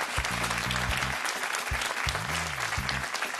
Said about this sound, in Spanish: El aplauso para los dos, mucha suerte.